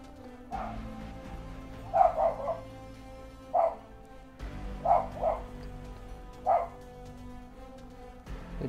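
A pet dog at home lets out a handful of short, separate barks spaced across a few seconds, at moderate loudness over a low steady indoor hum, with no talk.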